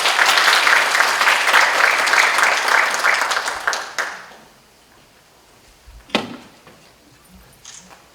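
An audience at a UN-Habitat Korea Committee ceremony for World Youth Day gives a dense burst of applause that fills the first half, then stops abruptly into near silence, broken later by a single sharp knock.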